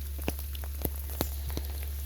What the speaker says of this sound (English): especially while it's raining